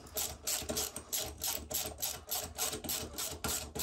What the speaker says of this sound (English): This is where you're gonna need your ratchet.